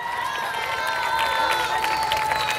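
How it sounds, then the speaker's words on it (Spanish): A rodeo crowd at Rancho El Capulín in El Salto, Guerrero, applauds and cheers for the bulls. A steady, loud wash of clapping and shouts fills the arena, and a sustained tone rings through it. "que le brinden el aplauso fuerte"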